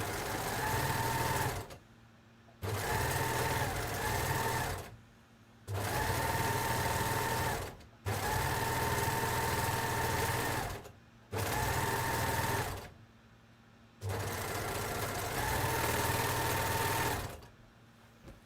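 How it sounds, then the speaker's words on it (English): Overlocker sewing machine stitching fabric for a Kielo wrap dress, running in six loud, steady bursts of about two to three seconds each, separated by short pauses, with no talking. "ran that through the overlocker"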